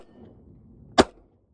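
A single sharp shot from a Glock 43x pistol with an aftermarket magazine, a loud close crack that ends abruptly after a quiet lead-in.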